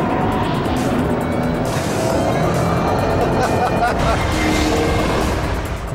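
A Ford Shelby GT500 driven hard into a corner while oversteering, a loud sustained engine roar with broadband tire and road noise, heard from inside the car with a driver talking over it.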